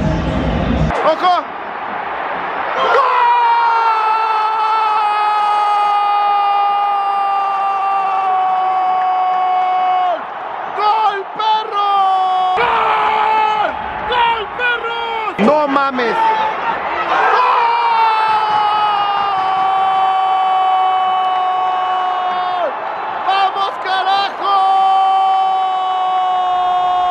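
A stadium crowd at a Club América versus Monterrey football match keeps up loud, continuous shouting and chanting, with sustained horn-like tones running through it and nearby voices over the din.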